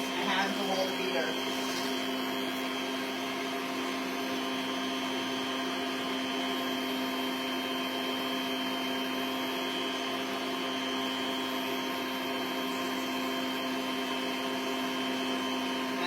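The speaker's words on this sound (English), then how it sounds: "So I'm just going to keep the beater on, seeing I don't have to use my hands to hold the beater." An electric hand beater whirs continuously through a sugar mixture in a home kitchen, a steady close motor hum with a constant pitch and no pauses, and no voices over it.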